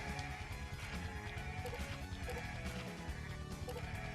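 Sheep bleating in the Baten Kaitos Remaster video game, in the Celestial Alps area, with repeated bleats over a dense, busy game soundtrack and effects running the whole time.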